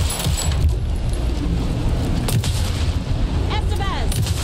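Shotgun fire in the video game Alan Wake 2 at a lakeside ritual, low booming blasts amid dense rumbling game noise, with a few whistling tones late on.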